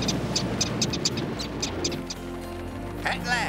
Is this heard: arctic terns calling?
yes